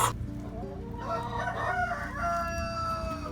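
A broody hen vocalizes close by in a coop, giving drawn-out, tonal clucking calls that rise and waver over a few seconds, with no speech.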